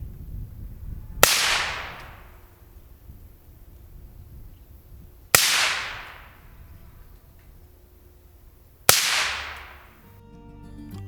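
Three 5.56 rifle shots fired through a suppressor ring out as sharp outdoor cracks several seconds apart, each trailing off in a short echoing decay.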